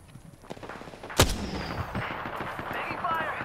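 Gunfire in an Apex Legends style shooter game: a sharp loud shot, then a quieter burst of shots and in-game combat noise with echoing tails, under game voice chatter.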